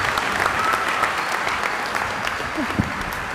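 Commencement audience applauding after a speaker, a steady dense patter of many hands clapping at moderate distance, with faint voices mixed in.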